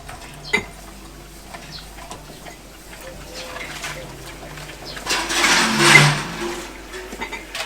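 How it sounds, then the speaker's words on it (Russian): A bucket is dropped into a village well in a yard, giving a sharp clank, then a rising rush and splash of water with faint background bird sounds. "Возвращаемся обратно во двор и направляемся к колодцу. Сбрасываем в него ведро."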